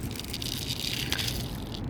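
Fertilizer granules poured from a container for potted rose cuttings, a soft close rattling rush lasting a couple of seconds, fairly quiet with no talk.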